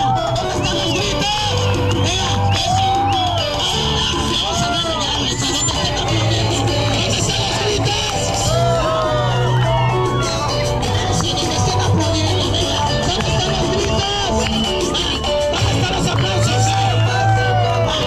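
Large crowd at an outdoor show in the Alameda, Mexico City, with a continuous roar of shouting, whoops and cheering throughout, loud and close, with voices mixed into the din.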